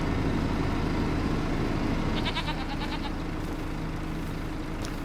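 Goats bleat in the Farming Simulator 25 farm game, a short run of repeated calls rising over a steady low engine-like rumble that continues underneath.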